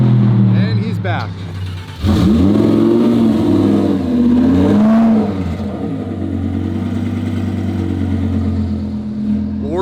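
A low-slung twin-turbo Lamborghini's engine roars and revs loudly as the car passes close by, a strong steady engine note with rising and falling pitch swells, while people talk over it.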